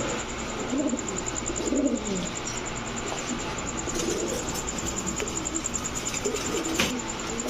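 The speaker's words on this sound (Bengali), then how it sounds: "এখন দেখাবো এক জোড়া সুন্দরী কবুতর" Pigeons coo softly and repeatedly, low murmuring calls rising and falling over a steady background hum, with occasional faint chirps.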